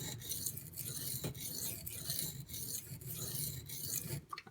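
A Ganzo knife with 440C steel blade is stroked repeatedly across a fine-grit lapped Gritomatic silicon carbide benchstone, giving a steady close rasping scrape in even back-and-forth passes, with no talk.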